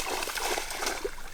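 Dog splashing about in water outdoors, a faint wash of sloshing and splattering with small irregular splashes, no talk.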